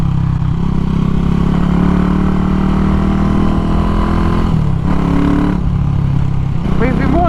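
A CCM motorcycle engine rumbles steadily up close with a deep exhaust note, shifting pitch near the end as the bike revs.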